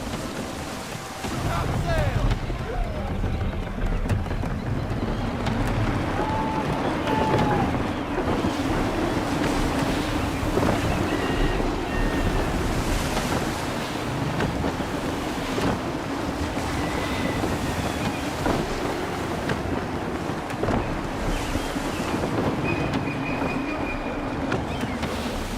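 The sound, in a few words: gusty wind and waves at sea in Assassin's Creed III video game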